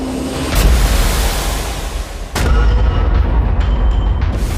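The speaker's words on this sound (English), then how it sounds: "The battery explodes into flames." A short-circuited battery bursts into flames in a test rig, giving two sudden broadband bursts, the second followed by sustained loud roaring, hissing rumble.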